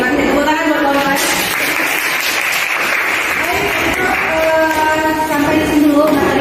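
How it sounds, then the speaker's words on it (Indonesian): Classroom applause from students after a physics lesson on electric charge, a broad, steady wash of clapping lasting several seconds with voices mixed in underneath. "Tepuk tangan buat kawan-kawan."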